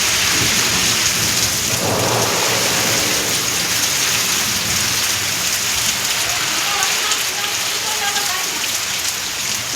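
Steady downpour of monsoon rain with rolling thunder, a dense continuous hiss filling the whole stretch, loud and close, with deep rumbles underneath and no clear speech.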